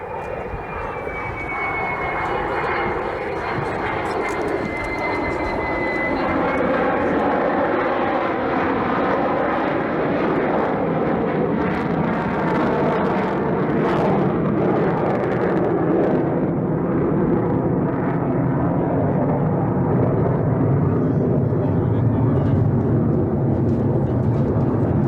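A piston airplane at the 1990 Reno Air Races makes a slow low pass with landing gear and flaps down, its loud engine roar swelling to a sustained, rumbling drone with a falling whine early on.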